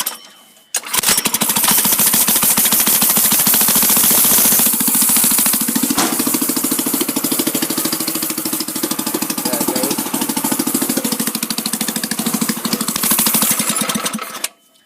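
A sleeper racing riding mower with a pressurized fuel system starts up fast and runs loud and close, a harsh steady buzzing engine roar with a slight rise near the end before cutting off.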